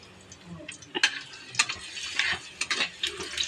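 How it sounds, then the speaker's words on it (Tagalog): Garlic fries in oil in a hot pan with a quiet crackle, overlaid by repeated scraping and knocking of a spoon stirring against the metal in uneven bursts. "Mainit na po yung ating kawali. Kaya nilagay ko na yung mantika, tapos lagay ko na rin yung bawang."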